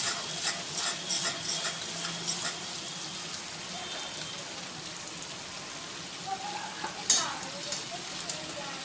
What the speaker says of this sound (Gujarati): લસણ મરચાં ડુંગળીનો બધાનો કાચો પેસ્ટ જતો રહે ત્યાં સુધી આપણે એને ફ્રાય કરવાનું